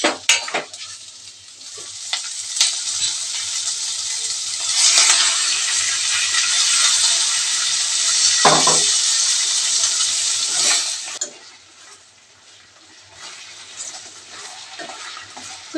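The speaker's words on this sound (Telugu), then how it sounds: "ముందుగా వేసి పెట్టుకున్న రొయ్యలు వేసుకుందామండి. ఇందాక చేసి పెట్టుకున్న గోంగూర వేసుకుందారండి." Raw prawns sizzle loudly in a pan with gongura leaves as they are stirred, a dense frying hiss broken by scraping stirs, easing to a quieter simmer near the end.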